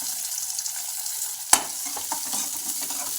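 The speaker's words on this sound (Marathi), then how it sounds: "कांदा छान परतून घ्यायचा" Onion sautéing in oil with mustard seeds and cumin, a steady close frying hiss with one sharp utensil knock and a few light stirring scrapes, no talking.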